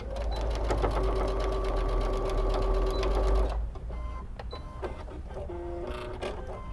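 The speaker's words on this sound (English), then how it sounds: "I only need to stitch about 1 inch to just tack it down" A sewing machine runs steadily for about three and a half seconds, tacking down the last corner of a quilt binding, then stops, leaving a few faint clicks and handling noises with a quiet machine hum.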